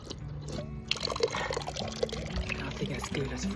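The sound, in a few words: fresh water running from a public drinking fountain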